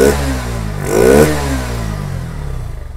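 A Bajaj Pulsar NS160 BS6 motorcycle, recently repaired for a throttle body problem, idles loudly up close and gives one quick rising rev before settling back to a steady, slightly clattering idle.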